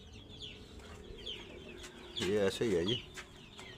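Hens clucking inside a hen house where they lay eggs, a short burst of close, loud clucks in the middle, with soft chirps and a person talking around them.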